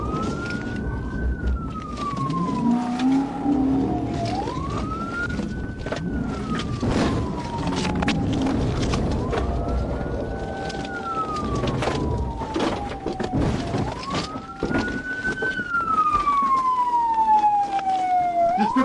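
A police car siren wails in long rising and falling sweeps during a chase after a suspect rammed a trooper's car, loud over road noise and engine rumble.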